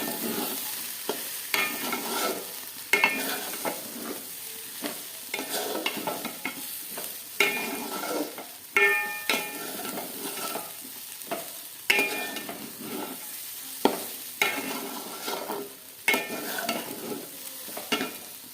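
Fried vegetables being mixed into cauliflower florets in a pan, a close, steady sizzle overlaid with irregular scraping and tossing strokes of a spatula, with no voices.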